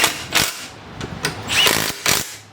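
A power tool runs on 13 mm seat bolts on a 2005–2010 Jeep Grand Cherokee front seat during a seat cover replacement. It gives several short bursts separated by pauses, loud and close, with no talk.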